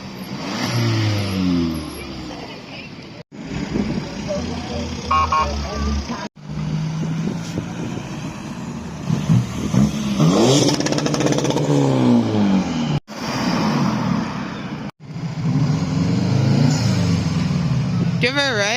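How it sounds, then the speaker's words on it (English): A car engine revs repeatedly at a car meet in Portrush, loud rising and falling roars with brief cutoffs between bursts, while people talk nearby. "Give her a wee rev."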